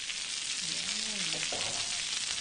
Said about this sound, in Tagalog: ang olive oil na mamahalin yung gagamitin natin pang fry